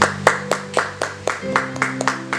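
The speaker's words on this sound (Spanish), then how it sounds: "Denle un fuerte aplauso." Applause from a church congregation after a sermon by a pastor, heard as a few hands clapping in a steady, sparse rhythm of sharp distinct claps over a faint sustained musical tone.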